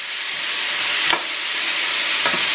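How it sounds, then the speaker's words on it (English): Curry shrimp and vegetable stir fry sizzles steadily in a pan while being stirred, with a continuous frying hiss and a couple of faint scraping strokes. "you just keep mixing this until your stir fry is done"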